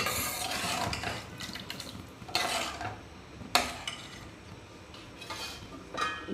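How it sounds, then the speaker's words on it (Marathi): Okra curry (bhendi aalan) with a glass of added water is stirred in a pan with a spoon, producing close, repeated scraping and clattering strokes at an irregular rhythm, with no talking. "पुन्हा सर्व एकत्र करून घेऊ."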